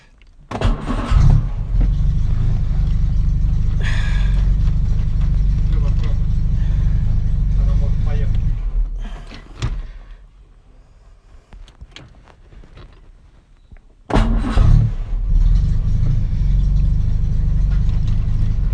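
A 1963 Jaguar Mk II with a low battery runs loud and rumbling close by, goes quiet for several seconds, then roars back to life. People speak over the engine noise.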